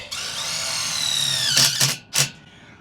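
A power drill whirs with a rising then falling pitch as it drives a pan-head screw into a wall stud, followed by two short bursts of the motor, close and loud.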